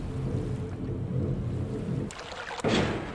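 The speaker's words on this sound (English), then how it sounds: "That's water." A water sound effect: steady rushing, sloshing water noise fills the clip at moderate level, shifting in texture with a brighter splashy surge near the end, with no voices.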